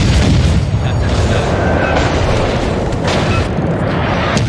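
Naval guns fire in the World of Warships video game as a loud, sustained rumbling boom with dense low-end roar and scattered crackle, filling the whole stretch with no talk over it.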